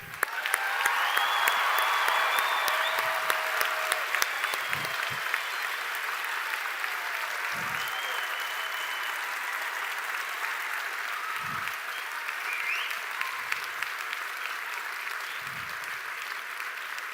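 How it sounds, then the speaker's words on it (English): A graduation audience at a science faculty ceremony claps and cheers in a dense, sustained burst that peaks early and then settles into steady, even applause, with a few low thumps underneath. "Come on, let's have a good cheer again."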